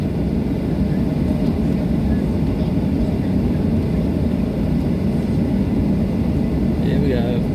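Passenger jet engines spool up for takeoff on a flight leaving the Gold Coast for Sydney, a steady loud cabin roar of low rumble and broadband noise that holds throughout.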